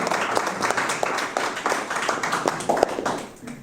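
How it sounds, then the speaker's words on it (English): A room of attendees at an annual meeting gives board members a round of applause, a full, loud patter of many hands clapping that swells and then tapers off near the end. "So I think they deserve a round of applause."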